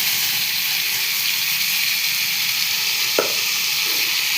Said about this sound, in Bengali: এই যে ফুলকপিটা এবারে এটার মধ্যে আমি কড়াইয়ে ঢেলে দিলাম একটু।